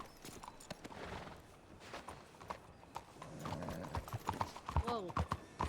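Horse hooves clip-clop in a Red Dead Redemption 2 roleplay game, irregular close steps with a whinny near the end, while people talk over them.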